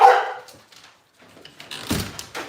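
A dog gives a sharp bark, then after a brief pause a few softer yips and whimpering barks follow, close by with some background noise.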